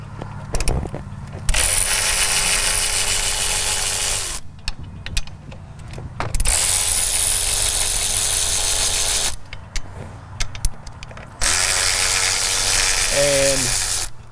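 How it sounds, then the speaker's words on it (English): A ratchet removes 13 mm metric bolts while a CP4 fuel pump is swapped for a replacement, giving three long, loud, steady motorized whirring runs with brief pauses and some nearby talk between them. "So we've got 1, 2, 3 13 metric bolts that we'll be removing."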